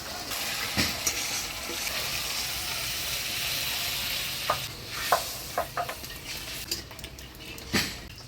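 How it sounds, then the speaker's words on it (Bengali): Mustard paste with turmeric and salt is stirred through hot tempered oil in a pan, with a steady background sizzle and scattered sharp scrapes and clinks from the spoon. A louder splash-like burst near the end fits water being poured in. "হলুদ লবণ দিয়ে সরষে বাটাটা ফোড়নের তেলে নাড়াচাড়া করে নিলাম, এবারে জল দিয়ে দিই"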